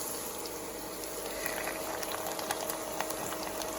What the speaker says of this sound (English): what we're gonna do is we're just gonna put the pork right in the pan.